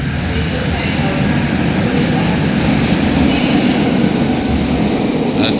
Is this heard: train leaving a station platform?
yes